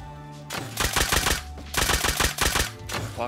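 Semi-automatic rifle fire in the game Rust, two rapid bursts of loud, close, punchy shots in quick succession with a brief pause between them.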